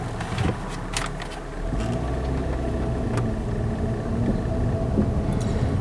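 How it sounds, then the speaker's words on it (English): A 2007 Hyundai Entourage that runs badly pulls away slowly in drive, its engine giving a steady, even rumble with no voices over it. "we're in drive, and we're just going to start and we're going to accelerate real slow"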